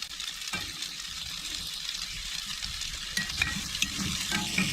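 Raw potatoes browning in butter in a pan on a wood cook stove, a steady close sizzle and fry with scraping stir strokes throughout, louder toward the end.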